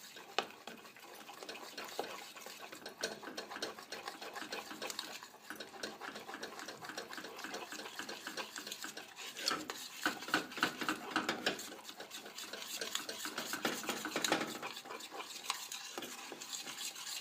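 Flour and butter being whisked in a pot for an Assyrian kadeh pie, a continuous close scraping and stirring rattle with faint sizzling, steady and fairly quiet throughout, with no talk.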